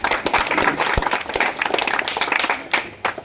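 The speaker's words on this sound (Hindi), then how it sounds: "ताली बजा के स्वागत कीजिए।" Crowd applause welcoming a speaker at a Congress party political gathering in Darbhanga, a dense burst of hand clapping from many people, close and lively, with a few louder individual claps near the end.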